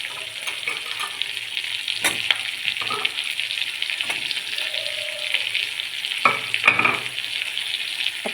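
Green chilies, capsicum and onions fry for chili chicken over a low to medium flame, with a steady close sizzle broken by occasional knocks and scrapes as a spoon stirs the pan.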